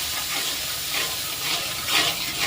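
Spices sizzle and hiss steadily in a pan after a little water is added, with soft stirring swells over a continuous frying noise.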